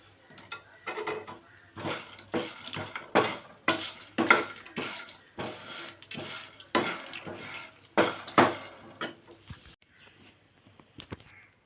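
Sautéed raw banana masala with grated coconut is stirred in a pan, a series of loud, close scraping and clattering strokes over faint frying, tapering to quiet taps at the end.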